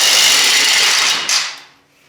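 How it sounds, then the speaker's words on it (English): A power tool spins off the nuts on the leaf spring U-bolts of a Toyota Tacoma. A loud, hissing whir holds for about a second, gives one brief spike, then winds down to quiet. "Tyler's taking off the 4 nuts on the U-bolts"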